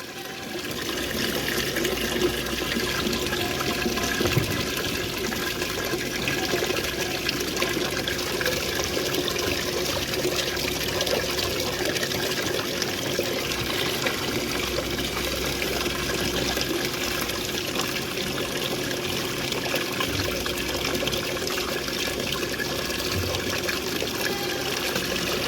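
Water being stirred and sloshed as molasses and jaggery are mixed into it for goats on a farm, a steady liquid churning and trickling that continues at an even level throughout, no talking.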